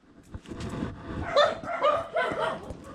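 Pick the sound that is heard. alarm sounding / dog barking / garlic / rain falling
dog barking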